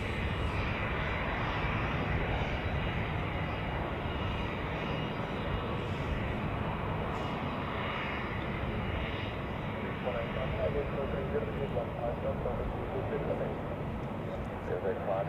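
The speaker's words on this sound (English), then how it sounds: "Cleared for takeoff for the Swiss flight to Paris, operated by a Helvetic Embraer 90 E2" A Helvetic Embraer 190 E2 airliner takes off at Zurich Airport in stormy weather, its jet engines giving a loud, sustained roar that stays constant throughout, with a voice speaking over it.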